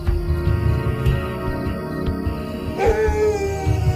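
A guard dog barks at a hyena at night in the open, with a dense, steady chorus of night insects underneath. There are a few loud barks and a howl-like yelp near the end.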